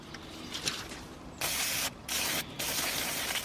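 Cleaner is sprayed onto the brake caliper slide bolts of a BMW 7 Series in three loud, close hissing bursts, with short pauses between them and no talk.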